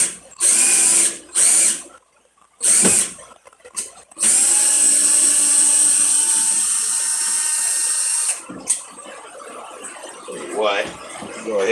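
A power drill drives screws into plywood in short bursts, then runs in one long steady burst, loud and close, with brief pauses between.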